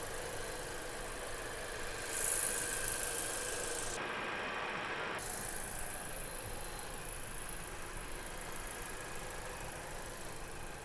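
A small three-cylinder engine in a used car idles close by with a steady, even hum and slight vibration that holds for about eleven seconds, with no voices over it.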